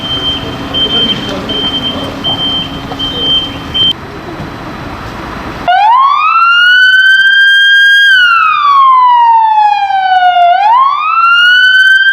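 Ambulance siren in Van, Turkey, sweeping loudly up and down in long wailing cycles, close and dominant after a stretch of background noise and muffled talk at the start.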